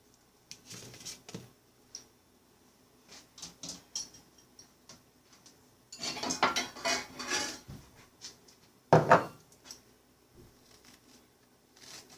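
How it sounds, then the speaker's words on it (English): A spoon scrapes out the insides of a halved yellow squash, sparse soft scratches and clicks that build into a denser bout of scraping, then a sharp clatter, all close and fairly quiet. "Just use a spoon to scrape out the insides of it."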